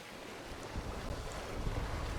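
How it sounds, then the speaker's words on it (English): A sailboat runs downwind under spinnaker with the current on open water, a steady wash of wind and water noise that is loud and unbroken, with no talking. "Spinnaker flying downwind, down current."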